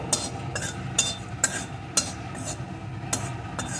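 Whole cumin seeds stirred in a dry pan over low heat make light scraping and sharp metallic clinks from the spatula every half second or so, close and fairly quiet with no sizzle.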